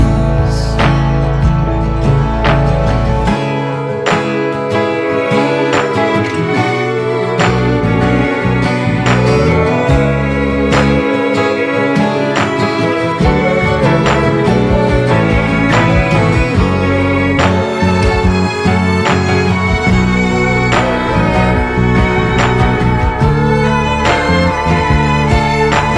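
The bridge of a song plays with the kick drum and sub bass pulled out and the strings brought forward, a loud, full sustained mix with prominent melodic layers throughout.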